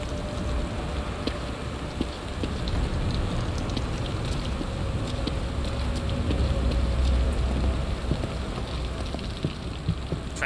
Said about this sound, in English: Get out this rain.